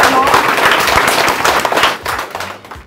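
A small group in a barbershop breaks into loud, rapid, dense clapping up close, tapering off toward the end with a voice faintly underneath.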